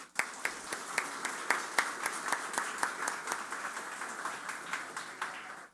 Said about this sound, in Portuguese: E eu peço até uma salva de palmas para terminar com uma zoada.